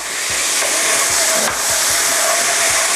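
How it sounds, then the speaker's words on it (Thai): Mushroom-flavored sauce with soy sauce and sugar simmering in a pan for a vegetarian glass noodle stir-fry: steady close bubbling sizzle and hiss with occasional soft pops, no voices. "อันนี้เคี่ยวเลยค่ะคุณผู้ชมเคี่ยวให้เดือด"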